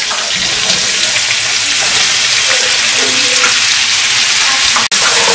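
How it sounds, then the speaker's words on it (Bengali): Onions hitting hot oil left over from frying prawns, a loud dense crackling sizzle that runs steadily throughout, close up with no voices. "আমি সেম তেলের মধ্যে দিয়ে দিচ্ছি পেঁয়াজ"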